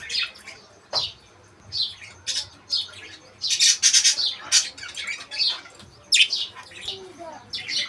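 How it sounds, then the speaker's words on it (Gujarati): White budgies in a cage at a small home zoo chirp and squawk in quick, repeated bursts, fairly close, with short pauses between calls and a faint background hum. "વ્હાઈટ ભજીસ."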